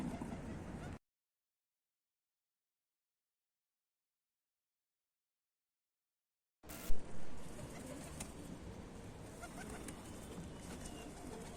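Pigeons coo at a loft, a soft steady murmur of birds heard near; after a short dropout the cooing and rustling resume with a brief bump.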